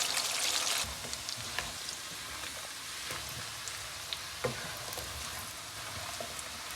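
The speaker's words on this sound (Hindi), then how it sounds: "ये जी अरबी फ्राई हो गई है" Taro root (arvi) frying in oil in a pan, a steady crackling sizzle like light rain with scattered louder pops, close and continuous.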